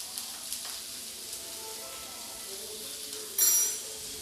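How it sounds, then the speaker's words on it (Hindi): Carrots and beans frying in a pan with a steady sizzle while being stirred, soft scrapes and a louder burst of hiss near the end, close and continuous with no talk. "सभी चीज़ों को डालने के बाद मैं सब्ज़ी को एक बार अच्छी तरीके से चला दूँगी।"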